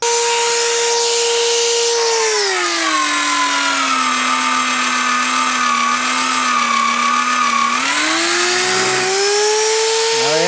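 Import magnetic drill fitted with a 20 mm annular cutter, its motor whining steadily and dropping in pitch as the cutter bites into steel, then rising again as the load eases near the end, loud and continuous with no talking.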